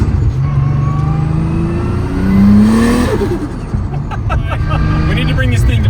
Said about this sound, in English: we filled it up with E85 and then took it for a few pulls